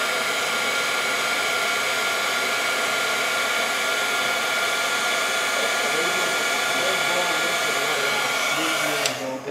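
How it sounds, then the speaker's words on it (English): An embossing heat tool blows and melts powder on a handmade Christmas card, a loud steady whirring hot-air roar held for nearly ten seconds before it cuts off at the end. "I'm going to grab my heat tool, and I'm going to melt my powder here"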